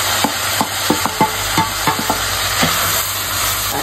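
Mushrooms and carrots sizzle loudly in a hot pan while a spatula scrapes and stirs in a steady run of sharp strokes, all close by with no talking.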